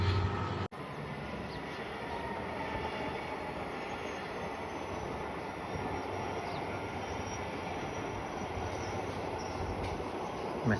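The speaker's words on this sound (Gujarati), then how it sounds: "Mehsana Patan passenger train." A Mehsana–Patan passenger train passes close by, its steady wheel and carriage rumble filling the whole span at an even loudness, with a sharp knock near the start and no voices.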